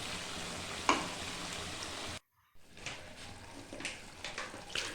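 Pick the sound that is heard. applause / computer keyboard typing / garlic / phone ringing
garlic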